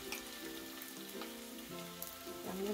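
Shrimp hit hot olive oil with onion in a pan for Toowoomba pasta, a brief quiet sizzle and crackle with a few soft stirring scrapes, continuous for a couple of seconds with no talking.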